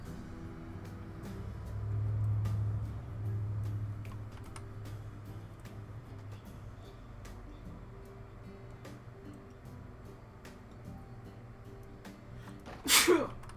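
A single sharp sneeze bursts out near the end, loud and close, after a stretch of keyboard tapping and low room hum.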